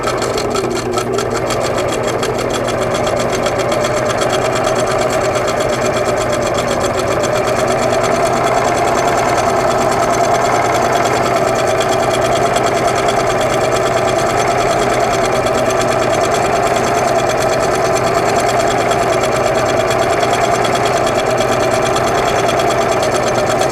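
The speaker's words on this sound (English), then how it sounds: "so we'll sew our last border piece on." Singer sewing machine stitching a quilt border piece, a loud continuous mechanical whir with rapid needle rattling throughout, steady and close with no pauses.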